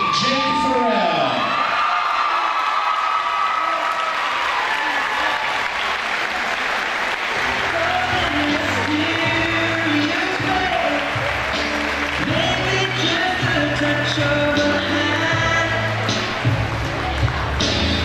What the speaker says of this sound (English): Big round of applause again to all of the royalty this year.